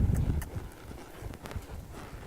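A young horse under saddle on her first ride moves at a lope, with a few soft rhythmic hoof thuds on the ground and light wind, faint and fairly close.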